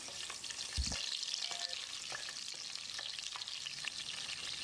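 Spices and chillies sizzle and crackle in hot oil, a steady bright frying hiss with scattered pops and an occasional stir, close and without talk.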